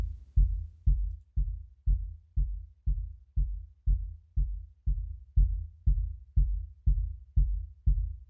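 Heavily compressed kick drum with a lengthened decay, struck in a steady fast beat of about two hits per second; each hit is a deep, booming low thump with a squashed attack and a drawn-out tail, played alone.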